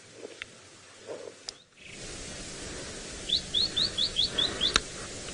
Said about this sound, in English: we've got a new bird for the list. Wonderful, a white-browed scrub robin